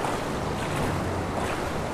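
Rushing waterfall water in the video game Far Cry Primal, a dense, loud, steady broadband roar filling the whole moment with no break.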